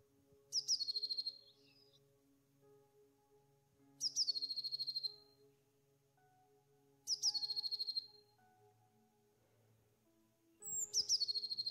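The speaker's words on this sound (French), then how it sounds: "Le mésange bleu a 2 notes aiguës" Blue tit singing outdoors, four separate bursts of high, rapid trilled notes spaced a few seconds apart, fairly faint and clear against a quiet background with a low hum.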